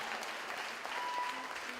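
An audience at a St Eugene's High School music show applauds steadily, a dense wash of clapping that stays even and fairly loud throughout, with no pauses.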